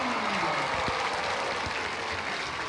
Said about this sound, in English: how about a round of applause for these courageous audience team members?